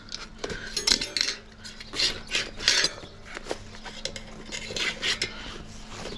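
A metal spoon pries and scrapes along a bicycle tyre and rim, giving repeated short metallic clinks and rasping scrapes in irregular bursts, close up with no talking.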